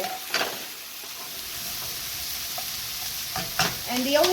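Zucchini frying in a pan for a gluten-free keto recipe, a soft steady sizzle with brief stirring scrapes, heard faintly under a few spoken words.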